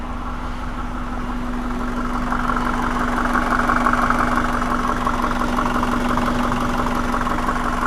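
A car engine idles steadily nearby, a constant low hum with a steady drone that grows slightly louder partway through, while the engine is still burning off some coolant.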